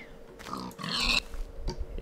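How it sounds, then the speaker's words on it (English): A Minecraft pig grunting and oinking in a few short nasal bursts, close and clear against a quiet game background. "Yes, thank you, pig."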